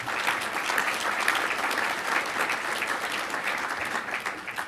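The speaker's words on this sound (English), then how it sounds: "You can clap for that." Steady applause rises from a breakfast audience in a room, many hands clapping at once in a dense, even patter that carries on throughout at moderate loudness.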